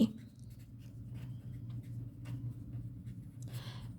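A pen or pencil writes a number on paper in a primary school classroom, faint scratchy strokes over a low room hum, with a brief louder scrape near the end.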